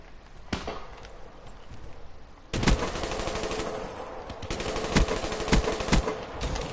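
Rapid bursts of gunfire in a video game, loud and close, with a quieter shot near the start, then dense sustained automatic fire and sharp single cracks from the midpoint on.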